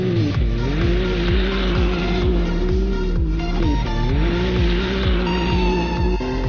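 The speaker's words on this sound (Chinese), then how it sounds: "现在掉头弯稍微给大点油，" A UTV switched to two-wheel drive, with a solid rear axle, drifting through a U-turn on more throttle. Its engine roars loudly and steadily up close, the pitch dipping and climbing as the throttle is worked through the turn.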